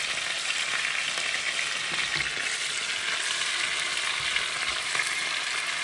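Stuffed corn-fed chicken searing briefly in a hot buttered pan, a loud continuous sizzle and crackle that holds steady throughout with no talking.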